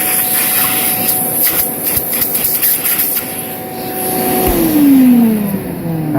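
A homemade 55-gallon shop vac with its hose attached runs with a loud, steady whine, and its pitch slides as the motor changes speed partway through.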